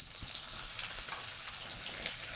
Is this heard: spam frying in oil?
yes